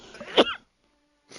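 A single sharp sneeze-like burst from a person, short and close, with faint surrounding game ambience and a brief pause of near silence after.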